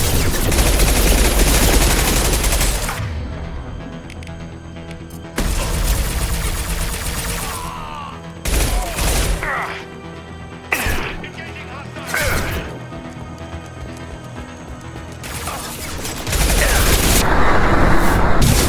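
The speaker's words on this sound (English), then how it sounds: "Firing an impact shot." Gunfire in the video game Mass Effect 2, with repeated bursts of shots and impacts from a close-range firefight, coming loud in clusters separated by short lulls, with voices and game chatter mixed in.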